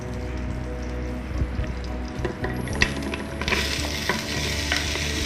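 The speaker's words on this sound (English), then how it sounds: "stir fry to brown your garlic. And when the garlic is brown, add in your French beans." Garlic and French beans stir-fry in a Noxxa electric pressure cooker, crackling and sizzling steadily while a utensil stirs and scrapes in uneven strokes, close up, with no talking.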